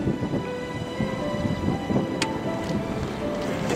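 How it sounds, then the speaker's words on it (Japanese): Light rain patters steadily outdoors at a fishing spot, with a low rumble of thunder in the background and a brief sharp tap partway through. "雨もポツポツ落ちてきたね。"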